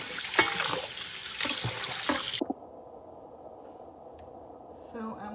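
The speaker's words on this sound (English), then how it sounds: "then I wash the chicken. I rinse the chicken off." Tap water runs steadily into a kitchen sink while raw chicken is rinsed after a vinegar soak for Jamaican curry chicken, then the tap shuts off, leaving quiet room tone with faint drips and handling.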